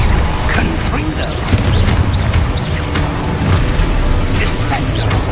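Fire spells from Hogwarts Legacy burst repeatedly in a dense, continuous clatter of booms and pops, loud and busy throughout with no clear gaps between blasts.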